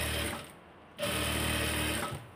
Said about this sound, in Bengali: এখন একটা করে সেলাই দিব যেভাবে, এখানে থেকে গনে গনে 5টা সেলাই দিয়ে দিব